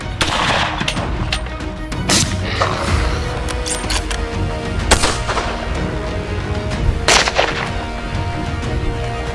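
A rifle fired at a wild boar on a Texas farm, with several loud, sharp gunshot cracks spread through the clip and echoing over continuous outdoor noise.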